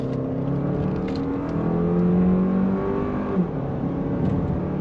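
The four-cylinder engine of a 2024 Lexus TX 350 midsize SUV hums and rises in pitch as it accelerates on throttle out of a turn. It is heard from inside the cabin as a steady drone with no talk.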